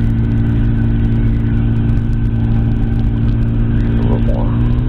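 An ultralight trike engine drones loud and close in flight, a steady rumbling hum that holds through as the throttle is eased up.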